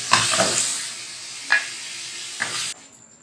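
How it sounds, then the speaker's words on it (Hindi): Mutton liver frying in oil over high heat, with a steady loud sizzle broken by a few bursts of stirring, cutting off sharply near the end. "तेज़ आंच पर हमने इसे फ्राई करना है, बस।"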